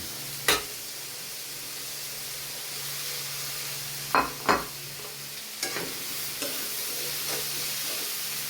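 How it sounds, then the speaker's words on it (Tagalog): Vegetables sautéing in a pan for a simple ginisang gulay, a soft continuous sizzle broken by a few sharp stirring scrapes and clacks of a utensil, close and clear with no talking. "Gisa lang muna natin yung gulay."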